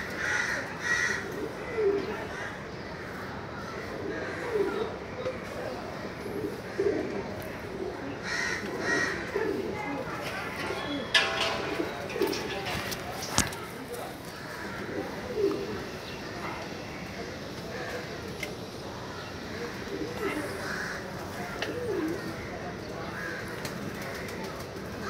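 A breeding pair of teddy pigeons coos in low, repeated murmurs close by, set among other birds whose calls and crow-like caws carry on throughout.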